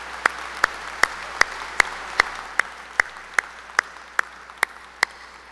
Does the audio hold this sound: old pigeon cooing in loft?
no